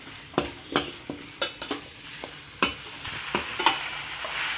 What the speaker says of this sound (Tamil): அந்த வெங்காயம் தக்காளி இஞ்சி பூண்டு பேஸ்ட்டு சிக்கனு எல்லாம் ஒன்றா சேர்த்து கலரிடுங்க.